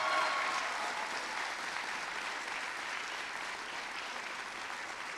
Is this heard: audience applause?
yes